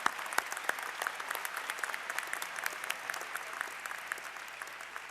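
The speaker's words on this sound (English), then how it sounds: "I wish you would all say hello to Bob Zapp with your applause" Audience at an undergraduate commencement ceremony in May 2008 breaks into sustained applause, a steady dense clatter of many hands clapping from a large crowd, moderately loud and continuing without a break.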